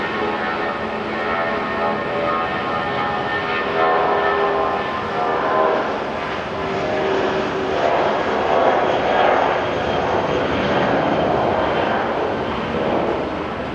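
Airliner engines roar at Auckland International Airport, a loud sustained jet rumble with a broad whine, swelling and easing gently across the recording with no talking.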